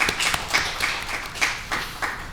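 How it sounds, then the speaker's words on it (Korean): A church congregation at a Sunday worship service claps in praise, a moderate, loosely rhythmic run of hand claps with distinct beats standing out. "하나님께 영광의 박수 올리겠습니다"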